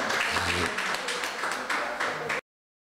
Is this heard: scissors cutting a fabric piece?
no